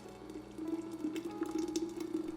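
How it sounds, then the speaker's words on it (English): Thick blended raspberry and peach purée pours steadily into a pitcher, a continuous close liquid flow with soft drips and splashes running throughout. "pour into a pitcher"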